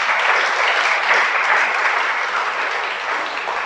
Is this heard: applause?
yes